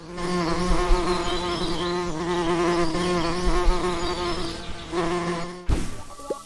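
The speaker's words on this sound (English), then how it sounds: "Bee." A bee buzzing close by, a steady droning hum with a wavering pitch that swells and fades slightly before cutting off abruptly near the end.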